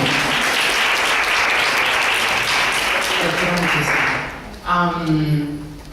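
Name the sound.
applause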